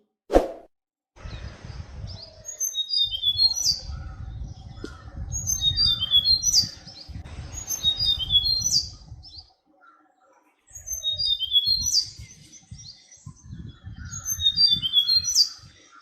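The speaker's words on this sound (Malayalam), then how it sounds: "നീലക്കുരുവി," An Asian fairy-bluebird gives short bursts of sharp, liquid calls in clusters about every three seconds. The calls are clear and fairly close over a low, rumbling background noise that comes and goes.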